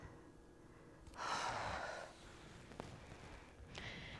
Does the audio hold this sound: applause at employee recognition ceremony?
no